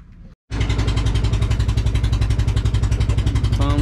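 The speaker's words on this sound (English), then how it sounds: "It's a pump boat." After a short pause, a loud pump boat engine on Subic Bay starts and chugs in a rapid, steady putter, close by and running without pause.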